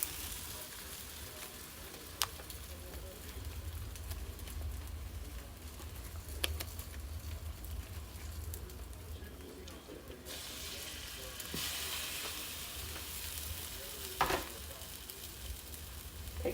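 French toast for pecan praline French toast sizzling and frying in a pan, a faint steady crackle with a few sharp clicks and scrapes, no voices over it.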